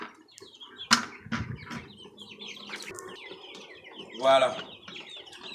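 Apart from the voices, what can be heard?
Goliath chickens clucking in the henhouse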